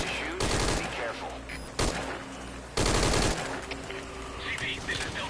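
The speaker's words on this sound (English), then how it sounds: "We're hearing gunfire." Bursts of gunfire ring out in the stealth video game Metal Gear Solid V, with several loud sharp volleys and rapid shots spaced across the moment, some clusters echoing like a fusillade, with a voice faintly underneath.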